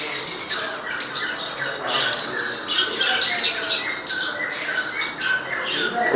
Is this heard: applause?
no